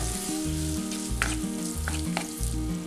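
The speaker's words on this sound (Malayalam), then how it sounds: "ഇനി ഇതെല്ലാം കൂടെ ഒന്ന് നന്നായിട്ടൊന്ന് മിക്സ് ചെയ്യാം." Biryani masala with lemon juice and yogurt being stirred in hot oil: a continuous sizzle with a few spoon scrapes, set against a loud, pulsing low hum from a stove or fan, with no voices.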